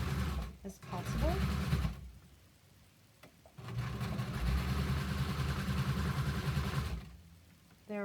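A sewing machine stitches a fabric mask, the fabric held by hand without pins: two sustained runs of fast, buzzing motor chatter, a few seconds each, separated by a quiet pause, close and fairly loud.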